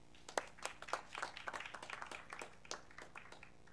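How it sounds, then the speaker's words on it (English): Sparse, faint applause from a small audience greeting a speaker at an academic education event, irregular individual claps scattered over a few seconds without voices. "So please, a round of applause for Caroline."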